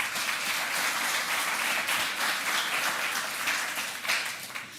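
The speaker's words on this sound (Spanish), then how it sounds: "Aplausos para ella también." An audience at a tribute conference claps steadily in a hall, a dense wash of applause that holds for several seconds at moderate level.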